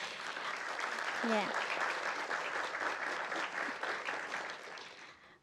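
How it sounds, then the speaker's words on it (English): Sustained applause from the crowd at an MLK celebration event, a dense even wash of clapping that holds steady and fades out at the end, with one person briefly speaking over it. "We can give them a round of applause."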